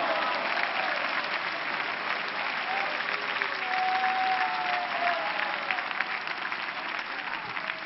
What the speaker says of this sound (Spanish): Denle palmas a Cristo que estoy.